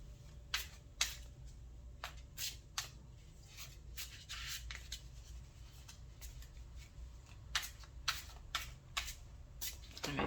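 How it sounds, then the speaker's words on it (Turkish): Tarot cards are shuffled by hand in close, quiet bursts of sharp riffling flicks, grouped in clusters with short pauses between them and a low steady hum underneath. "Önce şöyle bir karıştıralım kartlarımızı."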